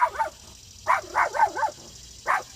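A dog barks several times outside a house, a quick cluster of yelps in the middle followed by one more bark after a short pause, muffled and moderately distant.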